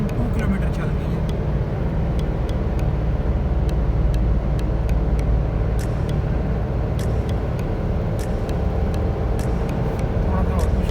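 A 2021 Suzuki Alto VXR with a 660cc engine drives at speed on a road, its engine drone and road roar loud and constant throughout, with ticks and rattles from inside the car.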